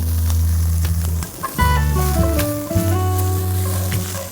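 Parboiled mutton for mutton achari hits a hot pan and sizzles steadily, with a brief lull before the frying surges again and carries on loud and close.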